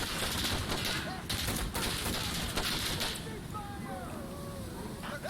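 Rapid gunfire in the video game Insurgency: Sandstorm, heard as dense overlapping bursts of shots in a noisy firefight, with voices talking over the din.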